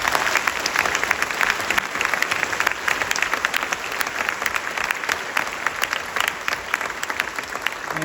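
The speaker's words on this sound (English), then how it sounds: "Let's give them a big round of applause." Steady, dense applause from a school concert audience cheering middle school band students, sustained and fairly loud throughout with no pauses.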